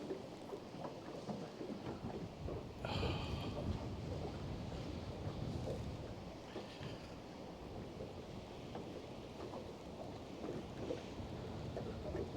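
Wind blows across a fishing boat during a December drift, a steady loud rushing buffet on the microphone with gusty swells and low rumble, no talk heard.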